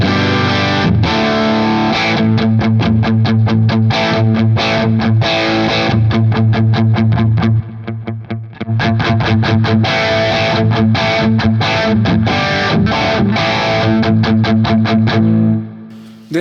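Electric guitar driven through a heavy-gain overdrive pedal, loud and saturated, playing chugging rhythmic chords with a full low end, a short break mid-phrase, then ringing out to a stop.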